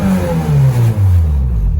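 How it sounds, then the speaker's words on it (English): A Honda car engine fitted with a Hondata s300 launch control system revs loudly and up close, rising in pitch twice before easing back, with no talk over it. "So right now I'm going to rev it up."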